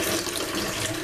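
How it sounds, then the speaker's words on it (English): Tap water pours steadily into a big bowl in a home kitchen, a brief, even rushing splash with no voices. "You're going to fill it up with water."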